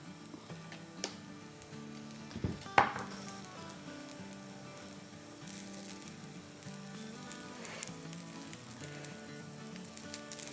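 Green onions go into tawa pulao on a hot pan and are stirred, with a soft continuous sizzle, a few clattering knocks from the spatula and scattered light ticks, heard close but fairly quiet.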